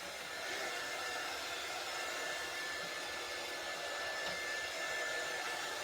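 A hair dryer runs continuously to dry paint on a red, white and blue patriotic craft project, a steady close whooshing roar of blowing air at even loudness with no talk.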